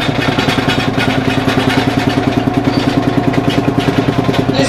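A Field Marshall tractor engine drives a stone crusher at a country parade, thudding in a loud, steady single-cylinder rhythm with rattling clatter throughout and no voices.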